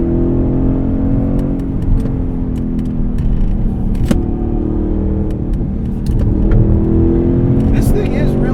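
A 670 HP 2016 Roush Stage 3 Mustang engine drones loudly from inside the cabin, rising and falling with the revs under steady road noise, while the driver talks over it.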